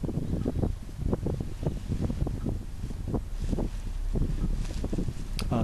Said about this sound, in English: Remember, this is a 30-mile-an-hour wind.